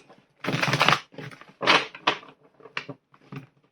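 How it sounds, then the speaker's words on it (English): A deck of tarot cards being shuffled by hand, several short papery riffling bursts with pauses between, close and fairly quiet, with no talking. "Let's see what the cards want to tell us. As always, we'll give them a shuffle."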